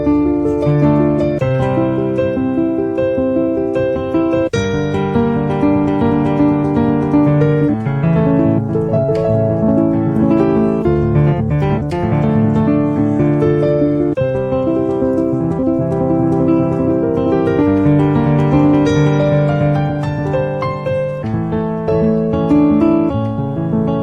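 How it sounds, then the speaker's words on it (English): Improvised piano intro built from flowing arpeggios, a steady stream of rolling broken chords over low bass notes, played close and full for the whole stretch without any talking. "I can do arpeggio to sound like this."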